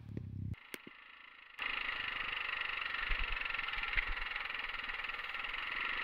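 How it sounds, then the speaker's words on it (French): Suzuki DRZ enduro motorcycle engine picked up through a camera mic, a steady mid-pitched idle with rough, tractor-like throb running continuously after a brief quieter start and a sharp tap or two. "le son de ma moto via la caméra, ça a vraiment un bruit de tracteur, c'est horrible"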